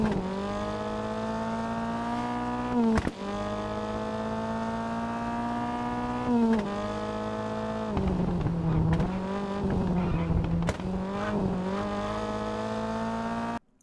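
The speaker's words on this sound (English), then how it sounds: "we're going to spend a couple of seconds just having a listen to how good this Lancia Fulvia sounds in" A Lancia Fulvia V4 engine in the rally game WRC 10 rasps at high revs, climbing through several gear changes marked by brief dips and pitch drops, loud and continuous with no talking.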